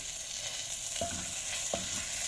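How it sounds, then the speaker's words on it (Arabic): Vermicelli fries in a pan with a steady sizzle while a spoon stirs it constantly, scraping twice across the pan with no talk. "هقلب فيها بقى تقليب مستمر علشان ما تحرقش معايا من كل الجهات"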